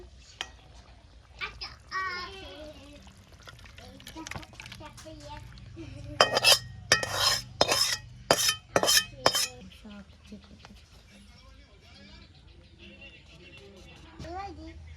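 Metal ladle clinks and scrapes against a pot and dish in a quick burst of about six knocks while cooked mutton curry with a little gravy is ladled out in a home kitchen, with a voice talking around it.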